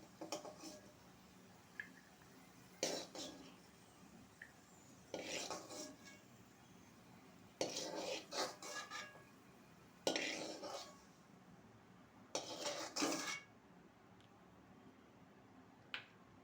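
Cooked semiya for semiya payasam is scraped and spooned from one pan into another vessel, heard as a few short bursts of metal clatter and scraping separated by quiet pauses, faint and close.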